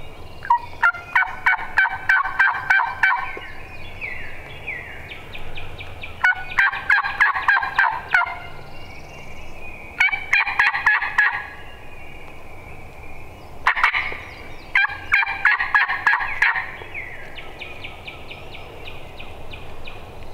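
Wild turkeys gobble repeatedly in rattling bursts during an Illinois turkey hunt, several calls spaced every few seconds, fairly close and loud against a quiet outdoor background.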